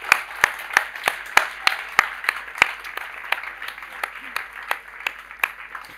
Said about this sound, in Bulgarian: Така че аплодисменти за нашите гости.